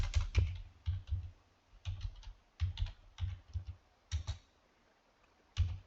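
Typing on a computer keyboard while writing a text prompt for an AI image generator, heard as close, crisp clusters of key clicks in short bursts separated by brief pauses, with no talking.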